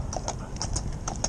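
Hooves of a horse pulling a driven carriage clip-clop in a steady, even rhythm of sharp, fairly close strikes, with faint background noise and no talking.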